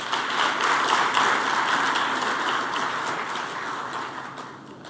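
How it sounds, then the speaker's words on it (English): An audience applauding young performers at a launch event, a dense wash of clapping that swells early and gradually tapers off, fairly loud with no talking. "big round of applause"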